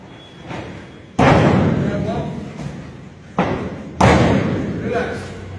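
A wrestler's body slams face-first onto the mat several times, giving heavy booming thuds with a ringing decay, loud and close, while a coach talks over the impacts.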